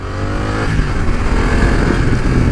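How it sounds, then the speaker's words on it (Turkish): A BMW F900 XR motorcycle runs loud and steady at close range while riding through Yeniköy, its engine drone continuous and rising slightly in pitch, with no talk. "Yeniköy'ü arşınlıyorum şu anda BMW F900 XR'la."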